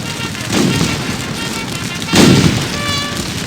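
Cannon and musket fire in a Napoleonic Waterloo battle game: two heavy booming volleys about a second and a half apart, each rolling into a rumbling decay over a constant background of distant battle noise.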